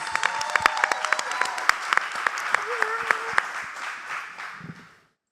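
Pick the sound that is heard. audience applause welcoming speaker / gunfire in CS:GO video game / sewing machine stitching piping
audience applause welcoming speaker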